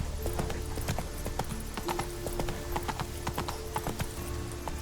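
Geralt's horse Roach trots in The Witcher 3, its hooves clip-clopping in a quick, steady rhythm close by, with a faint whinny and background game ambience.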